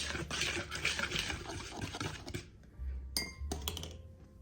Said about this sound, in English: I'm gonna whisk up all our dry ingredients first.